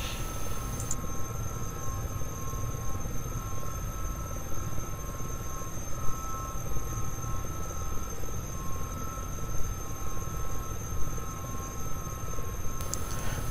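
Steady loud drone of a Gazelle helicopter flying over the Okavango Delta, heard from inside, with a constant rotor and engine rumble and high whine throughout and no talking.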